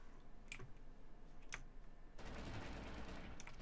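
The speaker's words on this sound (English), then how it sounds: "Definitely gunshots." Gunfire in Totally Accurate Battlegrounds, the battle royale video game: two sharp isolated shots, then a dense, sustained burst of rapid fire that fills the second half.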